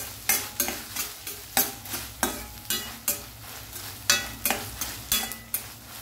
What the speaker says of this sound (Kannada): ಇನ್ನೊಂದು 1 ನಿಮಿಷ ಫ್ರೈ ಮಾಡುವ.